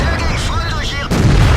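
Heavy booming cannon fire and impacts as a tank is hit from behind in World of Tanks, loud and close.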